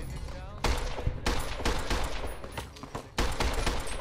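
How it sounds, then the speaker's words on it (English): Gunfire rings out in Fallout: New Vegas, with several loud bursts of rapid shots separated by brief pauses and a faint voice underneath. "I am shooting you in an unarmored region"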